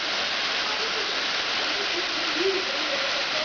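Maniava waterfall in late October, a steady broadband rushing of falling water filling the whole scene, heard continuously without pause.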